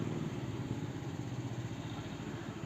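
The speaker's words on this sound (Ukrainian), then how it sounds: "другий трактор дричить" A tractor engine runs steadily nearby in a vegetable garden at potato-planting time, a continuous low, even rumble with no pauses and no voices.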